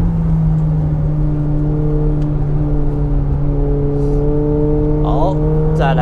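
McLaren 750S sports car at speed on the Estoril race circuit near Lisbon, a loud steady engine drone with layered tones and revs climbing sharply near the end.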